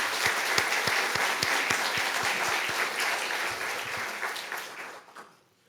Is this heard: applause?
yes